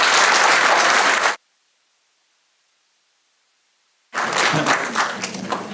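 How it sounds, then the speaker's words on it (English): Conference audience applause at an international conference on communication, security and AI: a loud burst of clapping, then about three seconds of dead silence before the applause returns just as strongly. "So please give him big round of applause."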